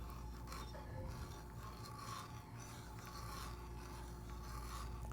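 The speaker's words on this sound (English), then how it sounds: "So I'm going to use this brace that has a 1/2-inch tenon cutter in it" A hand brace fitted with a 1/2-inch tenon cutter shaves wood in a continuous rasping, scraping rhythm, close and fairly quiet, with no voices.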